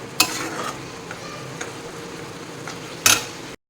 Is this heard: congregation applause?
no